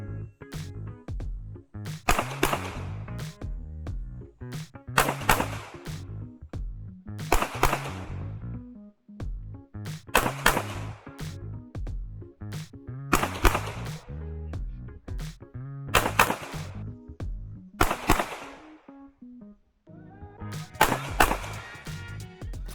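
Gunshots ring out during shooting practice drills, fired in sharp, loud bursts of two to four rounds with short pauses between strings, eight or so groups in all, close and without talk.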